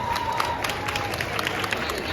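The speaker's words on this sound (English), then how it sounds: "give more big round of applause for all our senior showmen" A crowd applauds steadily at the 2022 Harris County Fair senior showmanship, a dense patter of clapping filling the space, with some cheering mixed in.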